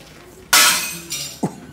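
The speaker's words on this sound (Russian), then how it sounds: "А вот так и разбивают стеклопакеты," Double-glazed window glass in an unfinished apartment building section is smashed with one loud sharp crash and trailing shatter, then a smaller clink of falling pieces, close by.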